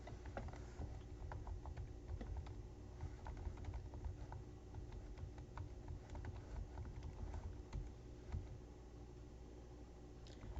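Steady keystrokes on a computer keyboard as a sentence is typed into a word processor, soft irregular clicks running continuously over a low background hum, fairly faint and with no talking.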